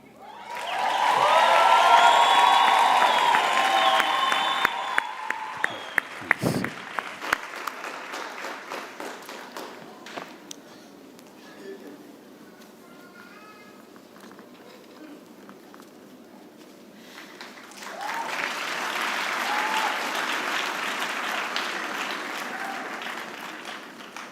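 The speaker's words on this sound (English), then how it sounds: "another round of applause for our graduates from the Faculty of Theology and Religion" Loud applause from a large crowd at a university graduation ceremony fades to quieter scattered clapping, then swells again near the end.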